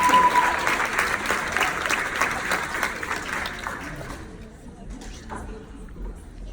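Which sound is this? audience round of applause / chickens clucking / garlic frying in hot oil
audience round of applause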